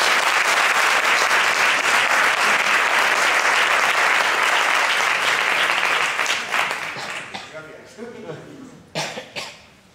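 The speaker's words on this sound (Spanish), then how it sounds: "y un aplauso para el maestro" Loud audience applause for a dulzaina player at a concert, sustained at first and then fading into scattered claps and a few coughs near the end.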